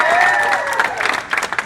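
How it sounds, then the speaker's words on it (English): An audience at a Lowe's store in Concord, New Hampshire applauds with scattered cheers, a brief burst of clapping over a ringing tone and overlapping voices. "I think we can definitely applaud that."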